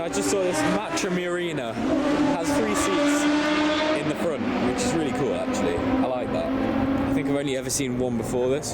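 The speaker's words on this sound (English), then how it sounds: "So we've now parked up at the racetrack and we're going to watch some racing." Race cars lapping the Le Mans Classic circuit during the 2023 event, their engines a continuous distant roar in the background while a person talks steadily over it.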